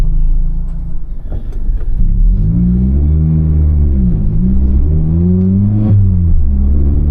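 Engine of a 2019 Mazda ND Miata heard from inside the cabin while driving: a steady low rumble rising and falling with revs, loud and close, with no talk.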